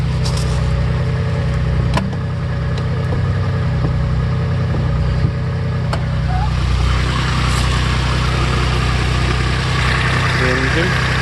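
A Maserati Biturbo 430 with three valves per cylinder, fresh cam belt, oil and spark plugs idles steadily, a close, even rumble with a few light ticks and clicks over it.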